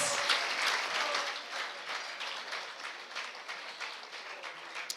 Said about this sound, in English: Please give a round of applause for all the nominees.